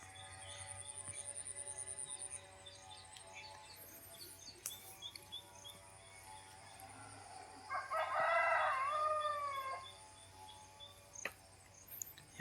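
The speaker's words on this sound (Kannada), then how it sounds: "ನೋಡಿ ನಮ್ಮ ಕೋಳಿ ಯಾವ ಥರ ಮೇಯ್ತಾ ನೋಡಿ ಫ್ರೆಂಡ್ಸ್." A native country rooster crows once, loud and clear at mid-distance, amid country chickens foraging outdoors in Tumkur, with faint bird chirps and scattered rustles around a quiet background.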